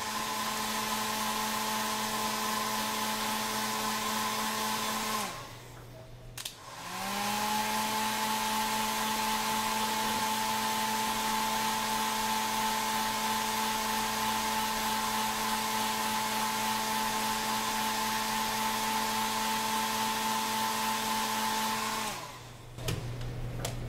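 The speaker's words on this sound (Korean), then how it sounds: "드라이기로 말리고" A hair dryer blows with a steady whirring roar, pauses briefly, then starts again and runs continuously before clicking off near the end.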